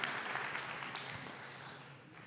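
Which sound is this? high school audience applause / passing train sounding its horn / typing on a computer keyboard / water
high school audience applause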